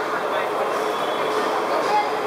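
Inside the women's compartment of a Mumbai suburban train heading to Borivali, a steady rushing rumble fills the carriage, even and continuous throughout.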